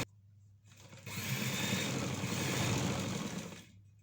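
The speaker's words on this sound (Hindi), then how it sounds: "अब हम यानी के जोड़ तक अपनी सिलाई को लगा देंगे।" A sewing machine runs a seam up to the joint, its fast, even whirring starting after a quiet moment and running steadily for about two and a half seconds before stopping, fairly quiet and close.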